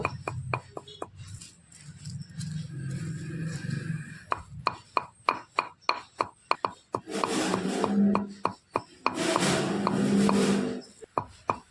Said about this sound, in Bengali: শুকনো লঙ্কাগুলোকে কুটে নিয়েছি, এবার জিরেগুলোকে একইভাবে কুটে নেব